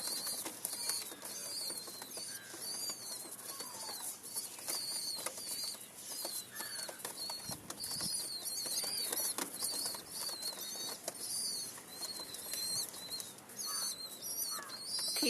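Soft fluttering of pigeon wings mixed with steady chirping and cooing birds, a busy outdoor flock murmuring continuously at moderate distance.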